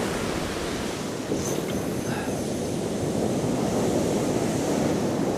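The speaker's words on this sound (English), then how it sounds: "This surf's up a bit, like it's about, I think about 4 or 5 foot swells." Surf of four to five foot swells breaks on a Northumberland beach at dawn, a steady wide roar of washing waves with wind noise and no talk.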